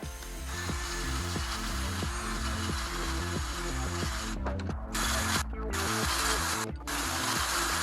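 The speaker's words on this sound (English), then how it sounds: "I'm just using a flapper wheel to slightly chamfer all the edges" A flap wheel grinds and chamfers the edges of plumbing pipe parts, a steady loud abrasive whir with a regular pulsing rhythm and a few brief breaks near the end, close up with no talk.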